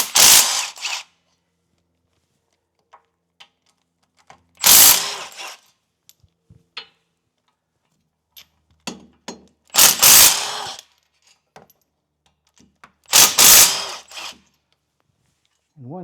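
A ratchet works on the 14mm bolts holding the rear wheel bearing on a Subaru Outback, heard as several loud, separate bursts of clicking spaced a few seconds apart, with small clanks and handling noises in the quiet gaps.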